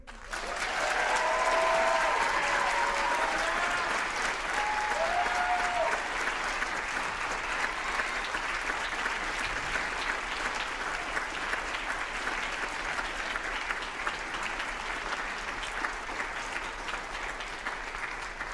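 Sustained applause from a school audience at a student writing event, loud and steady throughout, with a few faint voices rising near the start.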